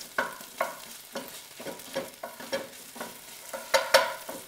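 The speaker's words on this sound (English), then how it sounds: "And this will saute for just a couple more minutes." Vegetables and tomato paste sautéing in a pan for ratatouille, a soft sizzle under repeated scraping stirs of a spoon, close by, with a louder clatter near the end.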